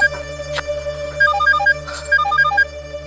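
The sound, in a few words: mobile phone ringtone ringing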